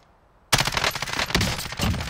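Sudden burst of RAM-7 assault rifle fire in Warzone, breaking out of near silence into a rapid string of loud, close shots lasting about a second and a half.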